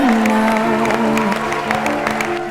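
An audience at a talent show semi-final claps in a dense, continuous burst, loud and close. A sustained, tonal voice or music rings through it.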